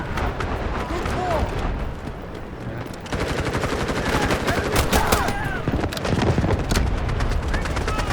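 Rapid automatic gunfire from the Garena Delta Force shooter game, dense bursts of shots rattling almost continuously with a brief lull near the start, loud and close with battle noise underneath.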